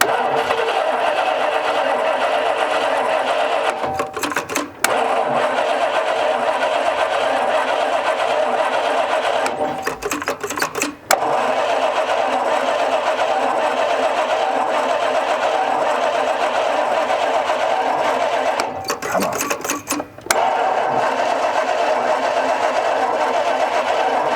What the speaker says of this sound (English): turn it over, and hopefully hear this thing crank up and run for the first time in 20 years